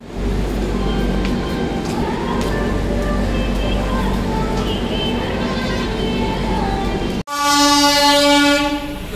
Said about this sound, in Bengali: সামালকর জংশন থেকে ট্রেন এখন আমাদের ছেড়ে দিয়েছে